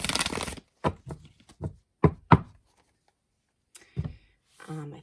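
Witches Tarot cards being handled and shuffled in a series of close, separate slaps and riffles, with a voice speaking briefly around them.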